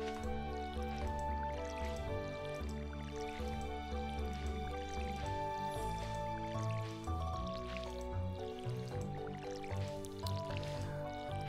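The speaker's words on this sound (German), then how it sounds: "Eine Gießkanne." A watering can pours in the farming video game Stardew Valley. Soft dripping, splashing water effects sit over continuous, fairly loud game background music.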